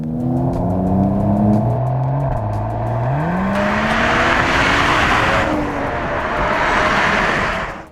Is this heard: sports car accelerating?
yes